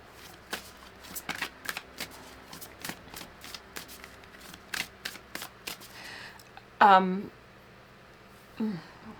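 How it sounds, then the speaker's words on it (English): Oracle cards shuffled close by, with a series of soft, papery flicks and riffles, then a brief voice and a couple of sharper handling sounds near the end. "Let's pull a couple more oracle cards here."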